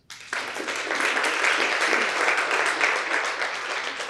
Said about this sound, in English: So I just want to give a round of applause to her.